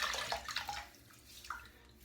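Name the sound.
water splashing while wetting head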